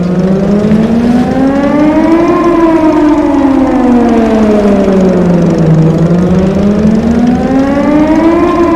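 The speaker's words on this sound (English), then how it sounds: "I heard this siren from my apartment in Bright City every once in a while" A civil defense siren in the video game Titan Chaser wails loudly and alone, its pitch slowly rising, falling and rising again in a long continuous cycle.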